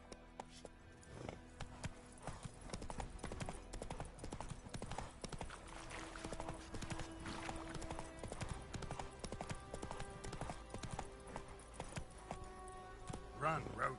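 Roach the horse gallops in The Witcher 3, a steady rapid clip-clop of hooves running close and clear over a low game soundscape, while a voice speaks briefly over it.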